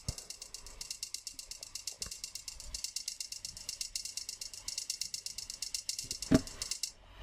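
A wonky, uneven hi-hat groove taken from an audio loop in Ableton, with fast bright ticks running in a shuffled, off-grid pattern under faint low thumps, and one louder hit near the end.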